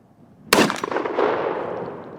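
A Beretta A300 shotgun fires a single loud, close blast at steel silhouette targets outdoors, followed by a long rolling echo that fades over about two seconds.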